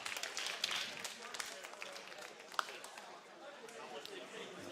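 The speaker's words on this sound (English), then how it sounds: "So big round of applause to Pepe, able to get that win" A crowd claps and chatters quietly at an antweight robot combat esports tournament arena, honouring the winning driver. The sound is faint and distant, with one sharper clap standing out briefly.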